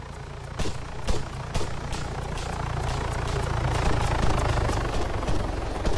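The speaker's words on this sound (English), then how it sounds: "I'm trying to take the fucking helicopter down since it keeps on flying around over us." A video game helicopter circles low overhead, a steady droning rotor and engine rumble that swells slightly louder as it passes, with a few sharp transient bursts early on.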